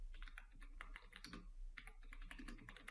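Computer keyboard typing in a terminal for a Flutter project, a steady run of quick clustered keystrokes with a couple of short pauses, close and moderately quiet over a low constant hum.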